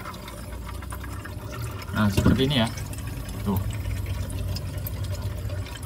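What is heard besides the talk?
water gurgling in Sharp refrigerator evaporator after switching off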